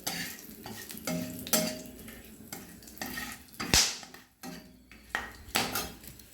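Bay leaf, cinnamon, two cardamom pods and two cloves crackle in hot oil in a kadai, with a spatula scraping and clanking against the pan in irregular bursts.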